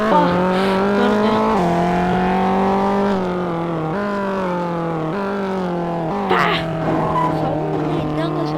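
Car engine in the mobile game Extreme Car Driving, a steady buzzing drone that steps up in pitch in repeated surges like gear shifts, loud and continuous for the whole stretch.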